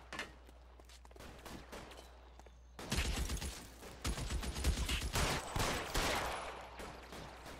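Automatic rifle fire in the video game L.A. Noire, a sustained rapid burst of shots that starts after a quieter stretch of scattered sounds and keeps rattling loudly to the end.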